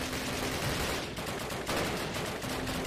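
Call of Duty game gunfire rattles in dense, continuous bursts, moderately loud and close, filling the short stretch without any talking.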